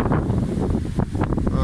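Strong wind gusting by an old wooden pedestrian footbridge, loud low rumbling buffets against the microphone that swell and ease in waves, with no talk during the gusts.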